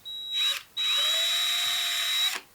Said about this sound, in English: I'm going to take a little tiny drill bit and I'm just going to drill a pilot hole